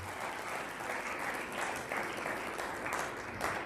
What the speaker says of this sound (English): So just another round of applause and appreciation for all those people.